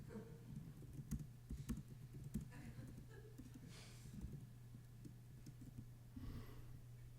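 Fairly faint keyboard typing patters along in irregular bursts under a steady low hum, with brief murmured talk between keystrokes.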